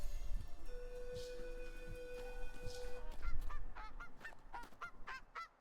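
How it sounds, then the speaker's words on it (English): Goose honks in the video game Amber Isle come as a rapid series of nasal calls over soft background music with sustained tones, getting busier toward the end. "Did you guys just grab goose and duck honking sounds?"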